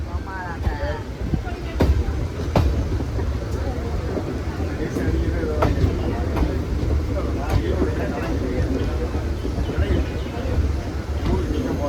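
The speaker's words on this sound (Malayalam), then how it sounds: "ഇപ്പോൾ നമ്മൾ പ്ലാറ്റ്ഫോമിൻ്റെ സൈഡിൽ നിന്നുള്ള ലൈൻ കയറിക്കൊണ്ടിരിക്കുകയാണ് കേട്ടോ." A passenger train running from Palakkad to Erode through the Walayar ghats crosses from the platform-side line onto the main line, heard from on board as a steady rumble with periodic wheel clicks beneath a talking voice.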